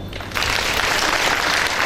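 An audience at a Bhagwat Katha religious discourse in Belgaum, Karnataka, bursts into loud, dense applause after a quiet moment, the clapping steady and close for the rest of the moment.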